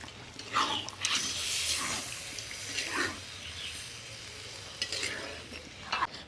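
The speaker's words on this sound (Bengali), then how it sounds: "এবারে দিয়ে দেবো পরিমাণ মতো জল" A pan of spinach, taro and snails sizzles and hisses as water is added, with a low steady frying noise and brief stirring scrapes, fairly faint and without talk.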